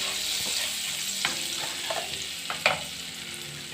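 Cumin and spices sizzle steadily in a tablespoon of hot butter, a continuous close frying hiss broken by a few soft pops and stirring taps, with no talking.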